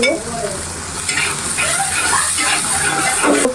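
Ginger garlic paste fries loudly in a pan for a cauliflower and rohu fish curry, a steady close sizzle with scraping stirring strokes throughout and no talking.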